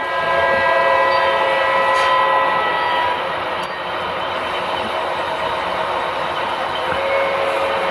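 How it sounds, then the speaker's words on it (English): A model train rumbles past nearby in a continuous loud roar with faint rail clatter and no voices. "And you'll see the train come into the picture."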